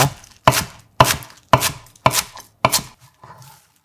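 Knife chopping spring cabbage (bomdong) leaves into thin strips on a cutting board; six crisp, evenly spaced close chops about half a second apart, then a faint trailing cut.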